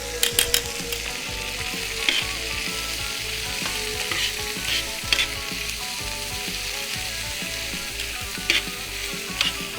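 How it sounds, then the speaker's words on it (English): Onions grilling in a little olive oil give off a constant, fairly loud sizzle and crackle, with a few sharp spatters and clicks on top and soft music underneath. "If you never grill onions like this, then you are missing out."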